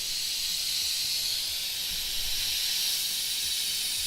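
Steam hisses steadily and loudly from a pressure cooker's pressure release, a broad continuous rush that holds unbroken for several seconds with faint low rumbles beneath.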